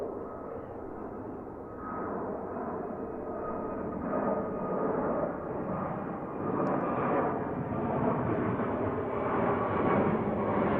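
A VistaJet Challenger 350 business jet takes off near Luton, its engine roar a broad steady rumble heard from a distance that swells gradually and holds loud for about ten seconds, with no talk.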